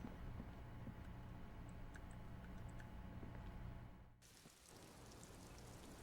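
Steady rain from the video game Disco Elysium pours on continuously at a moderate, even level, with scattered light ticks and drips over it and a brief dip in intensity near the end.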